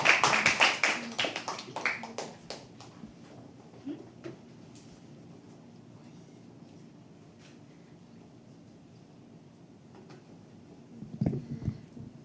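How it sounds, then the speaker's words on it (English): An audience at a live poetry open mic at The Habitat claps loudly in a dense burst that thins out over the first few seconds. A quiet room follows, and a brief stir of movement and noise returns near the end. "Please keep clapping till she comes on stage"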